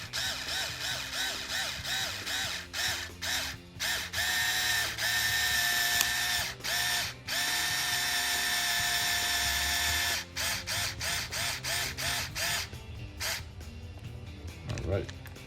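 A powered driver runs screws into the parts of a Tekno SCT410.3 short course RC truck kit, close whirring bursts in short stuttering pulses and longer steady runs, with no talking.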